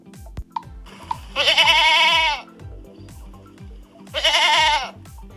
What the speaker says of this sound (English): Now that funny sound was the bleat of a goat.